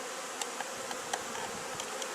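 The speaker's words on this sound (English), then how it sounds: "In the hive there is a lot of bees in there." Bees swarming inside a top bar hive make a steady, close buzzing drone, broken now and then by louder passes of single bees flying near, with no voices present.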